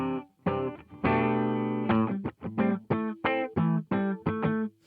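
Electric guitar played through an abSYNTHe effects unit with a straight, unprocessed setting, heard as a series of short strummed chords and one longer sustained chord, close and alone.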